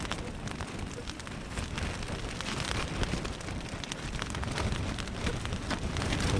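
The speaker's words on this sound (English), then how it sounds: "There's a little rain coming down now." Light rain patters steadily on a camping tent along the Mackenzie River during a passing storm, a dense continuous hiss of drops on the fabric with gusts of wind and no talk.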